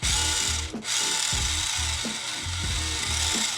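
An LDRC LD1899 full-metal RC drift car's electric motor runs in high throttle mode, buzzing in short repeated bursts with a steady grinding hiss, close and loud with no talking.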